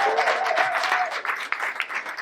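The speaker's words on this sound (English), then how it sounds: "Let's give them another round of applause." Audience applause at a BRAVEMAKER Film Festival live podcast show, a dense wash of many hands clapping steadily with a faint tonal whistle or cheer early on, filling the room throughout.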